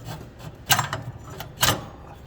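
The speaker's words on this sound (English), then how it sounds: "So, just putting it around the crank pulley again." A drive belt is worked around the crank pulley of a John Deere 240 lawn tractor, making soft rubbing and scraping sounds. Two short, louder scuffs stand out, and the sound is close and fairly quiet.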